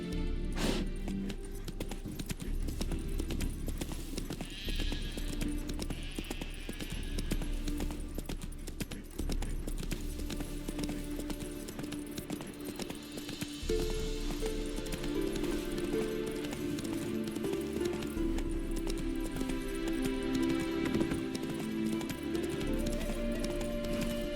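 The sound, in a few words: horse Roach galloping hooves, video game The Witcher 3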